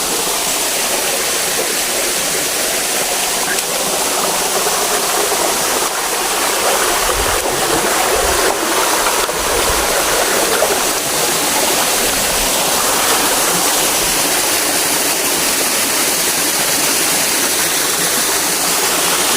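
A tall waterfall on a farm pours in a constant, loud, broadband rush of falling water, with no voices over it.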